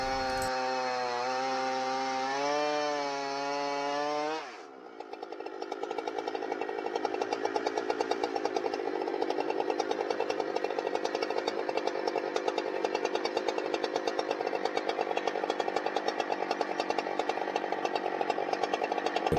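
A Husqvarna 395xp chainsaw milling lodgepole pine with a freshly filed chain: the engine revs and falls, then drops into a loud, steady, rasping cut that grinds on close up for a long stretch, with no talk.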